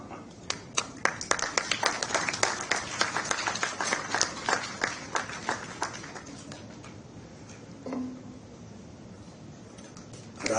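Audience applause at the launch of a state environment scheme in Haryana: a burst of many hands clapping that swells and then thins out over several seconds, with a lone voice near the end.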